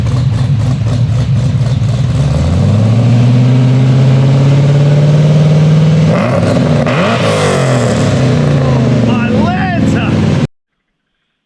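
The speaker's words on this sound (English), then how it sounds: "Just give it a slight little rev here." A Holden VE SS ute's V8 with an aftermarket cam idles with a loud, lumpy rumble up close, then takes a short rising rev that settles back before the sound cuts off abruptly.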